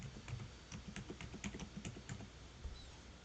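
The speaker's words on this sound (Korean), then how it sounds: "영어와 숫자를 포함하셔서 암호를 입력해 줍니다." Fingers typing a password on a computer keyboard, a steady run of soft, close key clicks with short pauses, quiet and alone.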